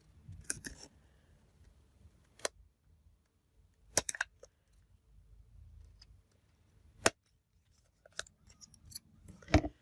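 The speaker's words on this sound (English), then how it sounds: "we just need to cut this side." Scissors snip paper for a handmade St. Patrick's Day card: about seven or eight sharp, close cuts come at irregular intervals over a quiet background, with soft handling rustles between them.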